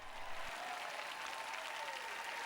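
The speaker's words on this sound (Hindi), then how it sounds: "मुझे पता नहीं यहाँ ज्यादा लोग तालियां बजा रहे हैं या बजाए" Steady applause from a large audience at a sermon gathering, a dense continuous wash of clapping throughout with no pauses, heard at moderate distance.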